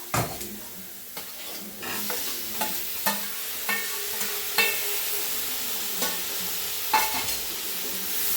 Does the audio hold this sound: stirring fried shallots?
yes